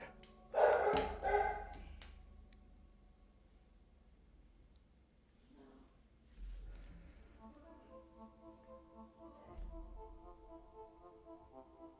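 A dog barks in a few sharp bursts during nearby fireworks, with long quieter stretches and a rising tonal hum later on.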